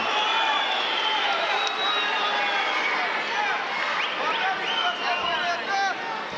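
Spectators at a judo World Cup bout cheering loudly for a Russian competitor, a sustained roar of crowd voices and shouts filling the hall without pause.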